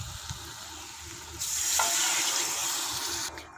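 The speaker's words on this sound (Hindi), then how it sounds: "ये देखें 2 कप पानी डाला है" Water is poured into a pan of hot kofta curry gravy made with raw beef mince koftas. A soft background gives way to a loud, hissing sizzle that lasts about two seconds, then drops off.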